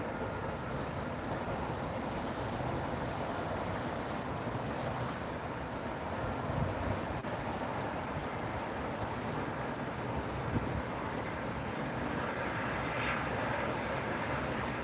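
United airliner on runway 27R at Heathrow Airport, a faint, distant, continuous jet roar with broad rumble that swells slightly around the middle.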